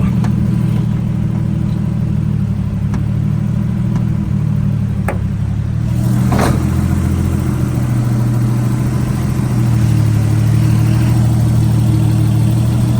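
A Datsun 280ZX engine runs steadily for the whole stretch, a loud low drone near at hand with slight shifts in pitch, a few faint clicks and no talking.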